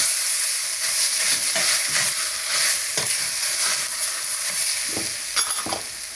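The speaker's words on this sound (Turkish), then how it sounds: "Biraz da patatesle kavrulsun." Vegetables and potatoes sautéing in a pot for a vegetable soup: a loud, steady hiss of frying close by, with a few stirring scrapes near the end and no talking.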